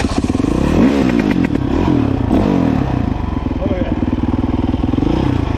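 A dirt bike engine runs loud and close for the whole stretch with a steady idle and a throaty pulse, plus a few rises in revs and some clattering. Voices come through faintly from the background.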